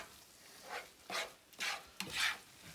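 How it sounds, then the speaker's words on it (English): Egg-coated matzah is stirred in a frying pan for matzah brei, with soft scraping strokes coming in three or four spaced bursts over a faint, low sizzle. "So keep stirring all the time."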